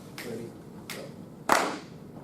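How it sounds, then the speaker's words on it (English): An audience in a lecture hall claps a rhythm together, three spaced group claps landing roughly every 0.6 seconds, the last one loudest, over a faint room murmur. "Let's clap several measures of that."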